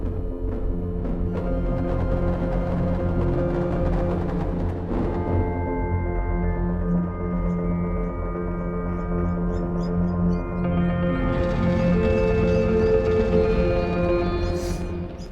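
Dreamworld patch from Sonuscore's Nordic Spheres virtual instrument, a dense, evolving ambient texture of sustained tones and shimmering layers that swells and brightens toward the end, playing alone without talk.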